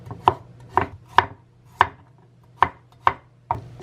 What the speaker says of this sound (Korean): 마늘을 썰어줍니다.